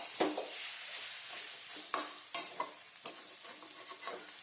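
Fried onions with turmeric and pepper powder are stirred in a pan for a Kerala-style soya chunks curry: a quiet sizzle broken by several sharp scraping strokes and taps, close by, with no voices.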